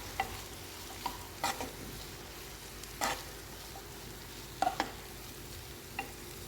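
Lentils stirred into a pot of vegetable soup, a soft steady sizzle with scattered light scrapes and taps of a spoon against the pot, fairly quiet and without talk.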